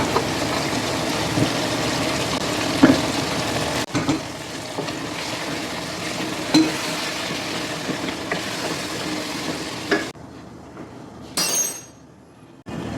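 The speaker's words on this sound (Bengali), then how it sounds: "একটু গরম পানি দিয়ে মশলাটাকে ভালো করে বুঝে নিব" Spices with cumin powder fry and are stirred in a pan with a little hot water, giving a steady sizzle broken by scraping and knocks of the spoon, then a sudden hissing burst near the end.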